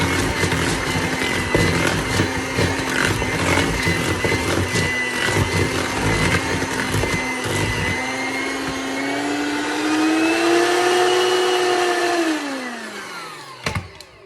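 An electric mixer whirs steadily through sweet potato pie cookie batter, a loud, sustained motor drone that rises in pitch, then winds down and stops, followed by a brief clatter.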